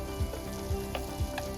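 Plant-based butter and cheese sizzle softly in a pan on the stove, a steady faint frying crackle with a few small pops and no voices.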